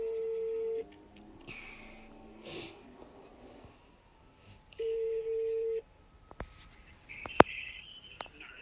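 Telephone call tones sound alone, a steady beep lasting about a second heard twice, with faint shuffling and sharp clicks of handling between and after them.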